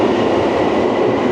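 A London Underground train on the Jubilee line rumbles loud and steady throughout, a dense continuous roar of wheels and carriage noise with no voices, ending abruptly.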